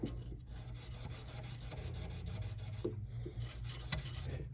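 Fine 1000-grit sandpaper rubbed back and forth over a single fret of a Quattro guitar, a steady close raspy scrubbing in quick repeated strokes with no voices.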